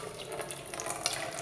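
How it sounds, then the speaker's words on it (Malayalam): A cup of water is poured into a pot while making homemade rosemary water for hair, giving a steady, close splashing stream that runs unbroken for about a second and a half with no voices. "1 ലിറ്ററിൻ്റെ 1 കപ്പ് വെള്ളം ഇതിലേക്ക് ഒഴിച്ചു കൊടുക്കാം"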